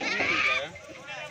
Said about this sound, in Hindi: और ये बकरी है